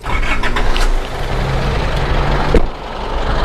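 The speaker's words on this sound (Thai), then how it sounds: "เดี๋ยวผมสตาร์ทเครื่องให้ดูแล้วกันนะฮะ" An Isuzu D-Max Hi-Lander 2.5 Ddi VGS Turbo diesel with the hood open, its engine running in a loud, close, steady rumble with a brief sharp knock near the end and no talking.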